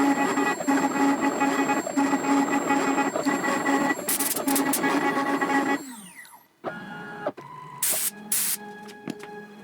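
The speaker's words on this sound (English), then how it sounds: "let me just start the machine and we'll begin to carve the letters" Machine carving letters into a wood board, a dense continuous mechanical whine and grinding with intermittent hissy bursts, then a drop in level as it changes pace, close and loud with no talking.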